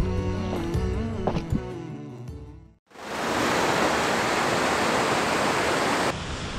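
Music plays briefly, then cuts to a loud, steady roar of Europe's tallest waterfall, in the Pyrenees, that fills the rest of the clip without letup.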